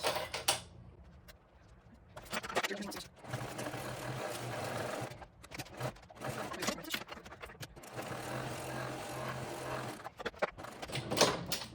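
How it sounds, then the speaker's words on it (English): A sewing machine stitches the front and side panels of a backpack together in bursts of fast, even mechanical whirring. Short pauses separate the runs, and near the start there are faint handling noises. "grab the front and right sides together and line them up and sew them on with your seam allowance"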